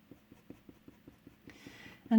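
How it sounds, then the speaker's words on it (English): Quick, light coloured-pencil flicks on paper, about a dozen soft, evenly spaced strokes in a regular rhythm, close and quiet, ending with a brief louder rustle. "I'm just flicking my pencil"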